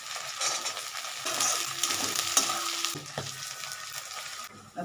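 Grated coconut and a slit green chilli frying in a pan for a mocha (banana flower) ghonto, a close, steady sizzle with a few clinks of a spatula against the pan.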